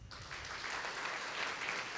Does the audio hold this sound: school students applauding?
yes